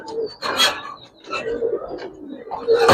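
Young Giribaz pigeons coo in a few short bursts at a seller's pigeon stall, close and moderately loud, with faint talk in the background.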